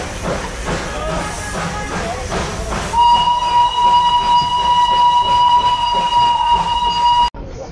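Darjeeling steam toy train running with a steady rumbling, hissing chug, then a long, loud steam whistle that holds for several seconds before cutting off abruptly, heard close by.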